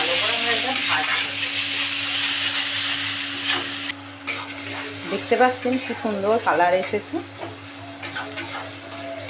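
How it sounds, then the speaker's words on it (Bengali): Ground spices with turmeric and chilli powder fried in oil and stirred, a loud continuous sizzle with spatula scrapes; a voice talks over the second half. "1 চামচের গুঁড়ো লঙ্কা দিয়ে এবার ভালো করে আমরা এটা ভাজবো।"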